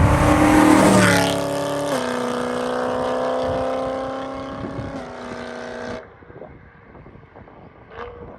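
A BMW E92 M3 V8 revs hard and loud, its engine note climbing and holding at a high pitch for several seconds, then cutting off abruptly and leaving quieter idle and background noise.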